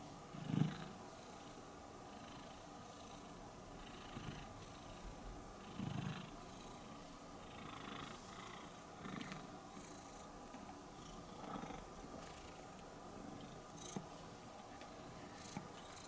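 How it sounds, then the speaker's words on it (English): A soft, steady purr rumbles quietly throughout, with occasional slightly louder swells and faint static in the background. "Are you getting those purrs?"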